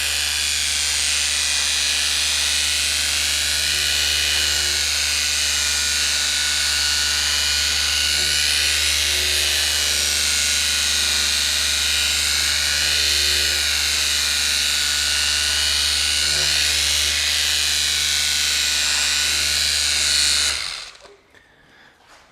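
A small handheld polisher whirs at a steady high pitch while buffing a 2022 BMW G80 M3 Competition xDrive during finishing polish, running loud and constant before cutting off near the end.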